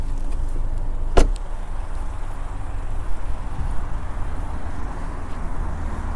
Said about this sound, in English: opening the hood, pull it twice in BMW fashion